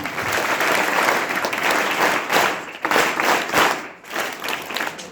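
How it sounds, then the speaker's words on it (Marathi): Schoolchildren in an audience at an ashram school's Shivaji Jayanti event give a speaker a round of applause, loud dense clapping that swells and dips in waves. "पुन्हा एकदा 3 क्लॅप मध्ये टाळ्या"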